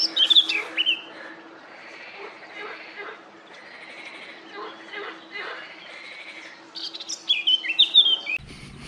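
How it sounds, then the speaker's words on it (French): Eurasian blackcap song outdoors at a bird reserve observation area, bright warbling phrases at the start and again near the end, with quieter chirps and a steady low hum between. "Ainsi qu'une belle fauvette tête noire."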